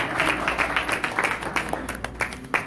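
Audience at a Cudahy town hall meeting applauding sheriff's deputies: sharp, uneven claps from a modest crowd with scattered cheers and voices mixed in, fairly close and lively.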